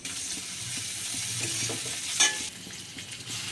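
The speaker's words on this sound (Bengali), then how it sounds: "প্রথমে আমি একটি কড়াইয়ে পরিমাণ মতো তেল দিয়ে দিচ্ছি। এবার আমি এতে পরিমাণ মতো পেঁয়াজ এবং কাঁচামরিচ ফালি করে রাখা দিয়ে দিচ্ছি।" Sliced onion and green chilies sizzle steadily in oil in a wok, a constant bright frying hiss with faint stirring scrapes and a brief louder spatter, with no talk.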